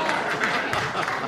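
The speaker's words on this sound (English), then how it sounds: "What the hell is with the applause?" Studio audience applause at a Tonight Show 10th anniversary taping, a dense sustained wash of clapping filling the room, with crowd murmur and talk mixed in.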